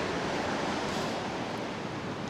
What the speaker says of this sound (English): You always forget how loud the sea is until you're at the seaside.